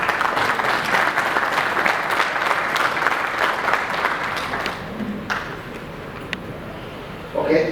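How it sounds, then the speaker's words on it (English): A conference audience gives a dense burst of clapping for the panelists. It is loud at first and thins out toward the end, with a few voices mixed in. "can we give them a round of applause?"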